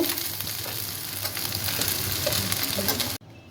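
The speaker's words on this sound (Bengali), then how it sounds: "এইরকমভাবে নেড়ে নেড়ে এটাকে ভাজা করে নিতে হবে, তাহলে চাউমিনটা গোটা গোটা থাকবে" Chicken chowmein sizzles steadily in a hot pan while being stirred and tossed, a dense continuous frying hiss with scraping stir sounds throughout that ends abruptly, with no talking.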